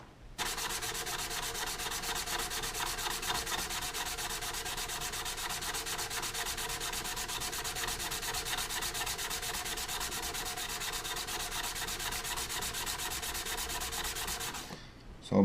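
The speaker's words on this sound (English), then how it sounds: "So I'm just starting the polishing process for the guards." Knife guards being sanded by hand with 220 grit sandpaper, a steady, continuous rubbing scrape that runs unbroken at close range with no talking.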